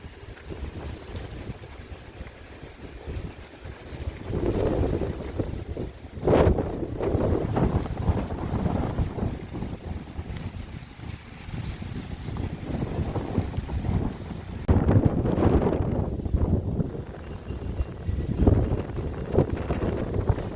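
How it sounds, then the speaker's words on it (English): Gusting wind of a tropical storm squall near New Orleans buffets the microphone in rough, surging waves, loud and close, with stronger blasts around the middle and toward the end and no talking. "this was just our first little squall that came through"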